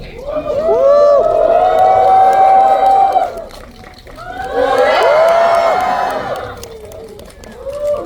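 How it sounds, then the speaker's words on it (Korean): A large concert crowd of K-pop fans cheers and shouts excitedly in two loud swells, with whoops and high voices rising, dipping briefly, then surging again. "큰 박수와 함성 부탁드립니다."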